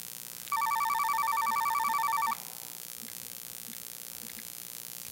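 A telephone rings with one steady electronic burst of about two seconds, fairly loud and alone, followed by quiet room tone with faint scattered clicks.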